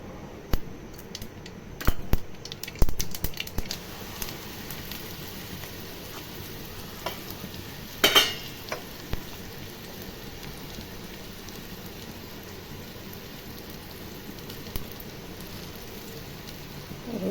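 Leftover roti pieces sizzle and crackle in a hot pan, with scattered scraping and clattering stirs, loudest early and again midway, over a steady hiss.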